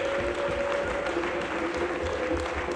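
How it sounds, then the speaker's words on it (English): Audience applause at a health awareness day thanking the foundations that organised the event, a steady wash of clapping across the whole stretch with a faint tonal hum underneath. "I think we need to give them a big round of applause."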